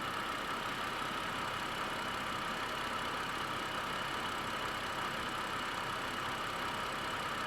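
Steady, continuous hum of a warm car engine idling nearby, its even drone unbroken and constant throughout with no other sounds over it.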